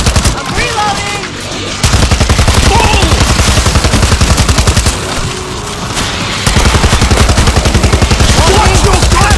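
Rapid automatic gunfire from the zombie shooter World War Z fires in long, loud bursts with a short pause between them, while game voices and effects sound in the background.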